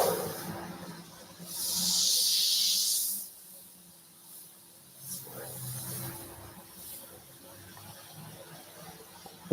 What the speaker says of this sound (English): airbrushing is really about the edge and blending off